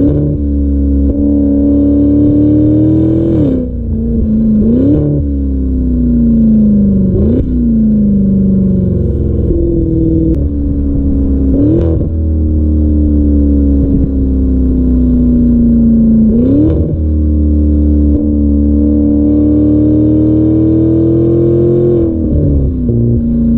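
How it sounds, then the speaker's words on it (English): Maserati Levante V8 Ultima SUV with its Ferrari-derived twin-turbo V8 pulls hard through repeated gear changes, a loud, close engine note climbing and dropping with each shift, steady and dominant throughout. "If this is the last V8 Maserati I drive in this configuration with this Ferrari Divide twin turbo, I'll be happy."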